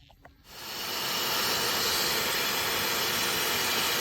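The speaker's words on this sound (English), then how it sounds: "So I need to turn on the vac to get this water out" A wet vacuum switches on and sucks sludgy water from a household radiator during a power flush, starting with a short click then rising into a loud, steady roaring hiss that holds to the end.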